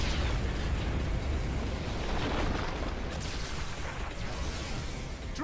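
A cannon blast explosion in the video game No More Heroes 3 roars as a dense, sustained rumbling boom across several seconds, loud and close, with no speech over it.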